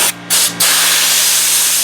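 A Harbor Freight portable sand blaster gun sprays soda media in loud, close hissing bursts, two short spurts followed by a sustained continuous blast with no talking.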